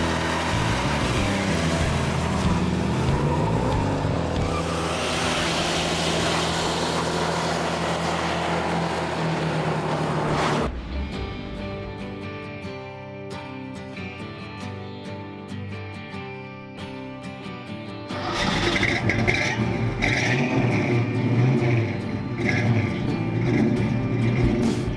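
A 1965 Ford Mustang convertible with a 289 V8 drives by, its engine a loud, steady drone that eases off briefly and then surges back stronger.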